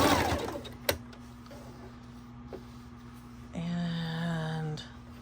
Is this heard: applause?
no